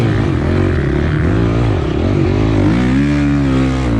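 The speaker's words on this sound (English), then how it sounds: "you can hear me like hit the throttle in the entry of the turn" Motocross bike engine at Mesquite MX, throttle opened on entry to a turn, a steady loud drone with rising and falling pitch as revs change, close and continuous throughout.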